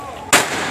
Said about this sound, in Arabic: من طرف أحد المشاغبين هنا اللي كيهاجموا السلطة بالمفرقعات